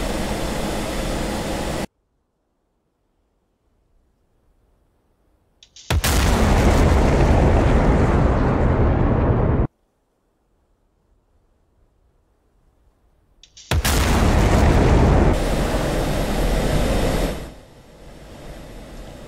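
F-16 jet engine in the DCS flight simulator, easing out of afterburner for flybys: two loud, broadband roaring passes, each surging in and cutting off abruptly, separated by near silence, with a lower rumble trailing at the end.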